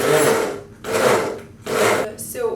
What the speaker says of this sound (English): The blender will help to make the dough more homogeneous.